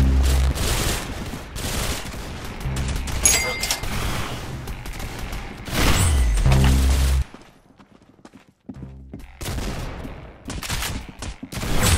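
Rapid gunfire from the Roblox shooter game Arsenal: dense bursts of shots, loud and close, stopping briefly then resuming.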